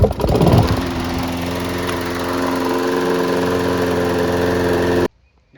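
A Toro Recycler 22-inch lawnmower with a 190cc engine and a new carburetor fires up on a pull start and runs at a loud, steady, close drone for about five seconds before it cuts off abruptly.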